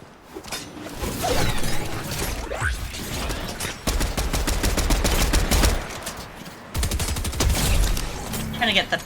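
Pistol gunfire in the video game Fortnite, with dense, continuous bursts of shots and mechanical clatter that run almost without a break for nine seconds, loud and close.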